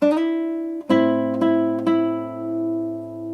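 Three or four sustained guitar notes of a melody played with a slide, each plucked then gliding, ringing out cleanly and close with no talking.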